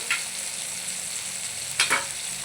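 A spoon stirs a drumstick and tomato curry in a pan over a constant sizzle, with two brief scraping strokes, one at the start and one near the end, and no talking.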